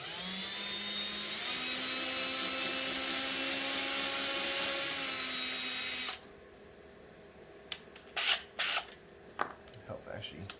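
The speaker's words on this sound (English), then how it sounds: "Don't want to drill too deep." A power drill whines steadily as it bores pilot holes into a wooden cutting board, its pitch stepping up as the bit spins faster. It then cuts off, leaving a few short knocks and faint room noise.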